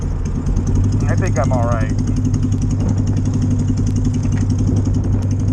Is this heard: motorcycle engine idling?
yes